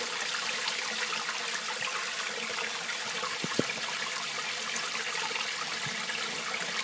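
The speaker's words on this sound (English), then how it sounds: "I'm just doing this with a garden hose right now" Water from a garden hose flows through a vortex aerator in an aquaponics setup, a steady rushing, hissing stream with a couple of faint knocks.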